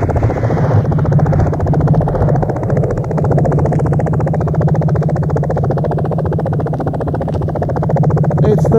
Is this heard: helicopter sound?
yes